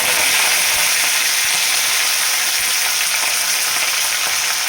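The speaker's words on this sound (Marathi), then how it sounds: "आता मोहरी आहे ती चांगली तडतडली" Mustard seeds and curry leaves crackle and sizzle in hot oil for a tempering, a loud, close, continuous frying hiss with fine popping throughout and no talk.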